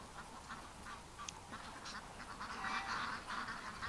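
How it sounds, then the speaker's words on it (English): Ducks kept in a pen during deep snow, quacking in a steady, moderately loud chorus. Several birds overlap, and the noise swells toward the end. "These ducks just don't like being in the pen."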